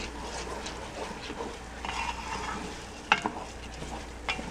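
Rice being stirred and cooked in a pan for risotto, a soft background sizzle with scattered scraping stirs and a couple of sharper spoon knocks, fairly quiet and close, with no voice over it.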